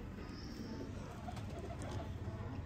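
Pigeons of a Sialkoti Teddy setup coo softly and continuously in the background with faint chirps, a low murmuring flock heard at a distance without talk.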